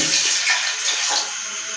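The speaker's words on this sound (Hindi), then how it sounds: "तो अभी हम इसमें इस पर ज़रूरत पानी ऐड करते हैं, जिसमें हमारा चिकन अच्छी तरह से टेंडर हो जाए।" Water pours steadily and fairly loudly into a pot of chicken and spices for a Lahori murgh cholay dish, a continuous splashing gush with no talk.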